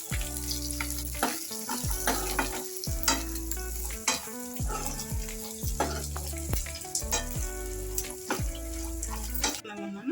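Whole spices including cashews, caraway, cinnamon, cloves and star anise frying in oil in a kadai, with continuous sizzling and repeated scraping of a ladle stirring the pan, no voices.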